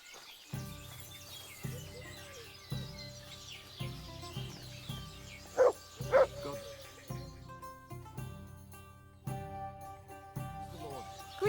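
Dog barks in the medieval world of Kingdom Come Deliverance 2, a steady series of moderately close woofs with a couple of sharper yips, over game music and faint birdsong.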